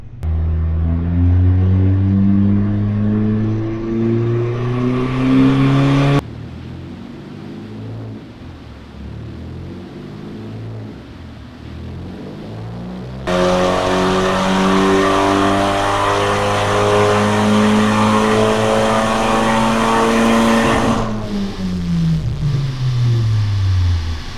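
An Audi S3 on a dyno during a tuning session revs hard in loud rising pulls, drops to a lower steady drone through the middle, then climbs through another full-throttle pull before easing off; no talking.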